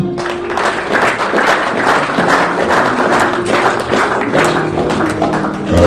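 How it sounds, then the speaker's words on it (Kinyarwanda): Applause and clapping from an audience gathered for a church pastor's event, a steady dense patter of hands that holds for several seconds, with faint voices underneath. "dukomereze amashyi"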